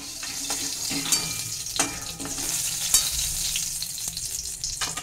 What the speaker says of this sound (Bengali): উচ্ছেটাকে আমি একটু লালচে করে ভেজে নিচ্ছি